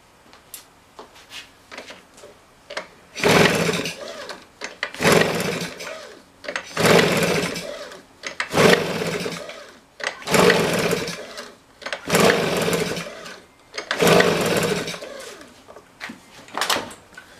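Husqvarna 150BT backpack blower engine, fitted with a new piston and cylinder, being pull-started without choke: about seven rapid rasping pull-cord bursts in a regular rhythm, close and fairly loud, with no talk.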